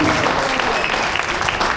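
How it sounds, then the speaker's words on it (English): Steady, dense clapping from a crowd at a graduation party fills the whole moment, loud and continuous with no pauses. "you can give him a clap offering"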